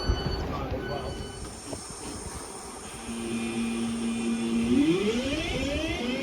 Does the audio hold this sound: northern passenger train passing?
yes